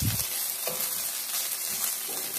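Onion, garlic-ginger paste and green chili frying in a pan for a rice dish, giving a steady, close hiss with a few soft stirring scrapes and no voices.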